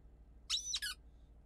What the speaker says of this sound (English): if you squeak this ball